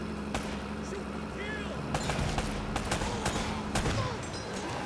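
Shootout gunfire in Uncharted: Drake's Fortune, scattered sharp gunshots cracking over a steady rumble of background noise, with brief speech between shots.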